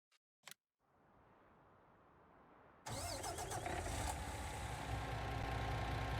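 A tractor engine in Farming Simulator 19 cranks and starts after a couple of short clicks, then settles into a loud, steady mid-pitched running drone that continues to the end.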